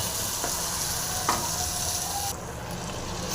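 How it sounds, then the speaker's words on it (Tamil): Chopped tomatoes fry in a pan with a steady, close sizzle and a couple of faint clinks. The hiss drops sharply in loudness near the end. "தக்காளியும் போட்டு நல்லா அந்த தக்காளி வந்து நல்லா உட மசிஞ்சு வரணும் அந்த அளவுக்கு நல்லா ஃப்ரை ஆகட்டும்"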